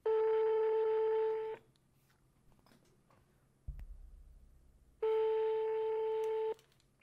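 Telephone ring-back tones on a call to a woman's phone: two long steady electronic tones with a quiet pause between them, clear and close, with no talking over them.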